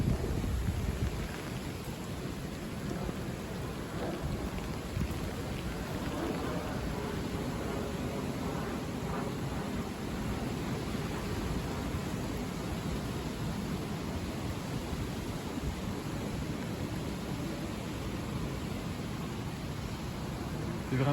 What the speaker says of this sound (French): C'est vraiment les giboulées de mars.